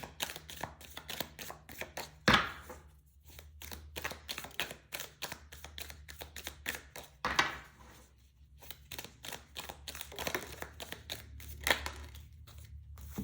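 Tarot cards are shuffled in quick, crisp riffles and taps, close and fairly quiet, with a few sharper knocks between bursts.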